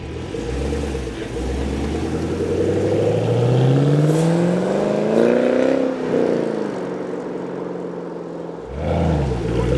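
A Chevrolet Camaro SS with a 6.2 V8, manual transmission and active exhaust accelerates hard from inside the car, its engine note rising through the gears in loud, rumbling pulls with short breaks between shifts.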